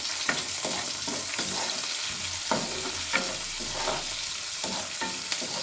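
Food frying in oil with a groundnut powder mix, stirred steadily in the pan, a continuous close sizzle broken by regular scraping strokes of the spoon, with no voices.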